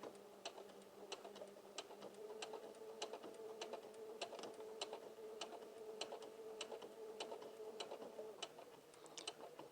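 A sewing machine stitches fabric along a fold, with a steady rapid ticking of the needle over a faint motor hum, quiet and close, with no talking.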